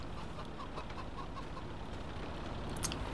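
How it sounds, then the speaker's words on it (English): Chickens clucking in the Farming Simulator 22 video game, a steady low murmur of barnyard fowl noise running continuously at moderate level with a few brief higher calls near the end. "Chickens are doing okay."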